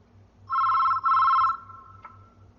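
A telephone in the film Darr rings in two long electronic bursts separated by a brief gap, clear and fairly loud over a soft pulsing low hum, then trails off into quiet.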